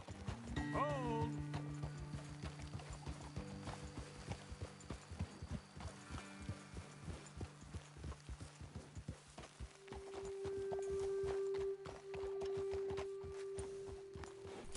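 Steady clip-clop of horse hooves walking in the video game Red Dead Redemption 2, with a horse whinnying near the start and background music or voices.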